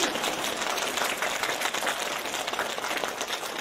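Faint, steady applause from an audience at a cultural diplomacy summit in Berlin, a dense even wash of clapping heard from a distance with no talk.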